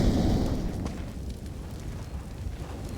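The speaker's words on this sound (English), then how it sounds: "The nade is going to do a little bit of damage" A grenade blast in Counter-Strike during a pro esports match. A loud boom hits at the start, then trails into a rumbling, crackling decay that stays fairly loud to the end, with no talking.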